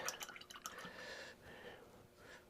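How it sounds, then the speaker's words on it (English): Paint brush rinsed in a small pot of water, faint light splashes and swishing up close, a few quick dabbing sounds and then a softer stir. "wash that brush off."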